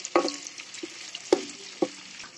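Masala spices hit hot oil in a pan while chicken biryani is being cooked, giving a steady sizzle broken by three or four sharp stirring clatters close by.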